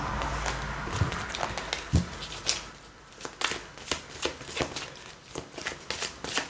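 Tarot cards are shuffled by hand for a reading, a run of crisp riffling and slapping bursts at an uneven rhythm, close and fairly quiet, with no talking.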